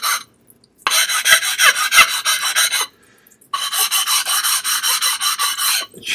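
A 400-grit stone rasps back and forth along the edges of a sharpening stone to chamfer them, two long runs of loud, close, rhythmic scraping strokes separated by a short pause.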